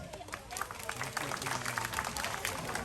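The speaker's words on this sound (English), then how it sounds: "how about we give a big round of applause to Midnight, our Malay fish owl" Audience clapping for a Malay fish owl at a night safari owl show in Singapore, a steady patter of many hands rising and holding for a few seconds, with voices in the crowd.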